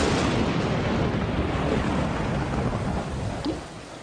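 A heavy thunderstorm with rain pouring onto a rocky surface: a continuous loud roar of downpour and deep rolling thunder, dense and unbroken throughout, with no voices.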